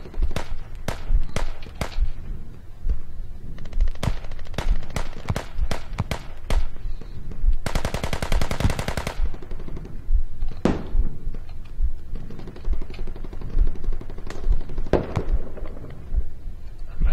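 Gunfire at a forward operating base in the game Squad, Kohat Toi River Valley map: repeated sharp single shots and a sustained burst of rapid automatic fire, close and loud, with echoing distant reports between.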